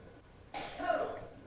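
A single sneeze bursts out suddenly in a classroom lecture setting, loud and close, a sharp onset trailing into a breathy release.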